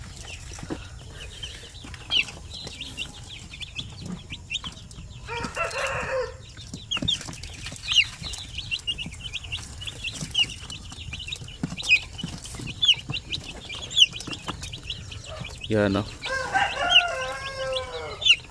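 A flock of hens and chicks clucks noisily and restlessly in a farm coop, with repeated close squawks and a rooster crowing in bursts, and a voice speaks briefly.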